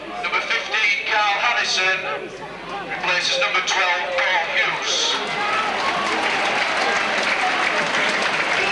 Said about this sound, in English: Paul Yode's getting a big round of ovation from this Featherstone Rovers crowd